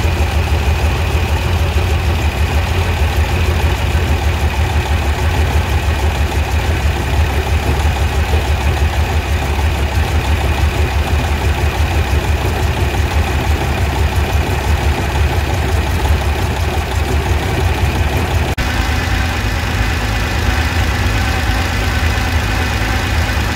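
A Porsche 911 engine idles steadily with its carburetors being tuned, a loud continuous mechanical rumble with a slight change in tone near the end; no talking.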